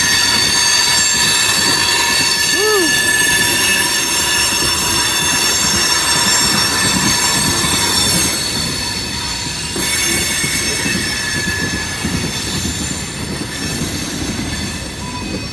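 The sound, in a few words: train cars squealing around curve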